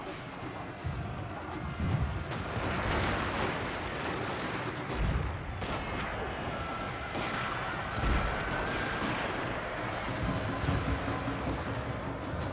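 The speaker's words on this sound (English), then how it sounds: "Marines are putting up a hell of a volley of fire." Musket volleys in Shogun 2: Fall of the Samurai crackle as dense, ragged bursts of rifle fire over a noisy battlefield din, sustained throughout with a few sharper shots standing out.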